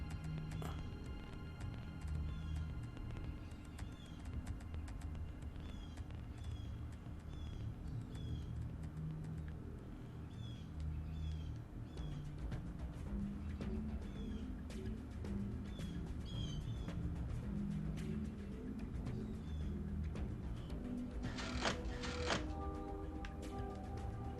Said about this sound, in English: these birds are loud